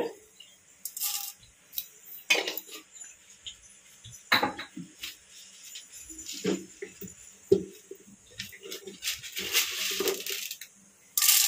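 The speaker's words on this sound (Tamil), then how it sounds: "இப்போ போட்ட கடுகும் உளுந்தம்பருப்பும் பார்த்தீங்கன்னா நல்லா பொரிஞ்சு வருது" Sharp, irregular crackles and pops burst out in quick clusters as mustard seeds and urad dal splutter in hot oil in a pan, close by with no talking.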